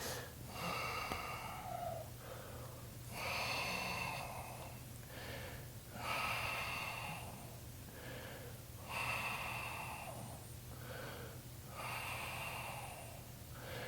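Slow, steady breaths held in a power yoga plank come through as about five audible inhale-exhale cycles, close and soft, each a breathy rush with a nasal edge over a low steady hum.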